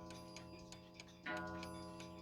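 Vintage 1960s Art Deco Napoleon hat Westminster chime mantel clock ticking softly and evenly, close by in a quiet room, with a faint steady hum and a brief louder knock partway through.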